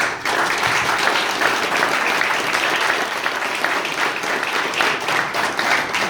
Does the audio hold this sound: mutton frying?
no